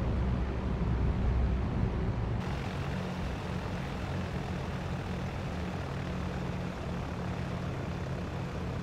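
A P-38 aircraft engine idling in the IL-2 flight game, a steady loud droning rumble with a slight drop in tone near the start, continuous throughout with no talking.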